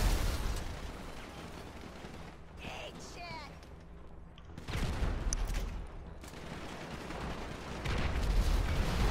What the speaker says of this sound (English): God, that was such a delayed explosion.